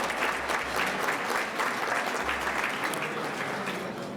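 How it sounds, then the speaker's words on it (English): Sustained applause from a large audience at a Jewish federation event, a dense, even wash of clapping that holds steady throughout without talk. "Oh, we just have another round of applause."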